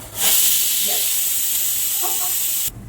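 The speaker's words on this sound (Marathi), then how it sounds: "कुकरची शिट्टी होणार आहे माझ्या।" Steam hisses loudly and steadily from a pressure cooker whistle while cooking bitter gourd for a few seconds, then cuts off abruptly.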